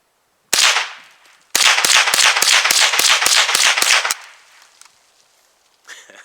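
A .22 LR semi-automatic rifle fires one shot, then a fast string of about nine or ten sharp cracks with short ringing tails. The shots are loud and close, with no talking.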